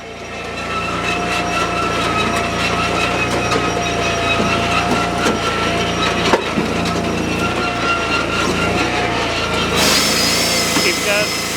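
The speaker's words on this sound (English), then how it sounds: "Fire up, in feed the splitter, turn the elevator on" Wallenstein WP1624 wood processor running steadily with a constant engine drone and machinery hum, its splitter working through logs with occasional woody knocks, all fairly loud and continuous.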